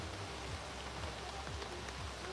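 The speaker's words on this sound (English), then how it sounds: "That's so peaceful in the rain." Steady rain patters on a tent roof, a dense, even hiss of drops close overhead with no voices.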